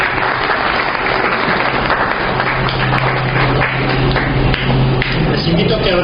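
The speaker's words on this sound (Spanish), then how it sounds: "démosle ese fuerte aplauso de bienvenida." A church congregation gives a loud, sustained round of welcoming applause, dense steady clapping close by that fills the whole stretch without letting up.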